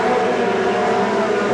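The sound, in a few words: open wheel race cars in lap traffic at Seekonk Speedway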